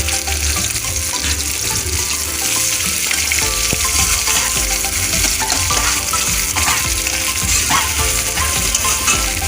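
Chopped onion and garlic frying in hot oil for a home-cooked curry, a loud continuous sizzle with stirring scrapes running throughout, close and unbroken.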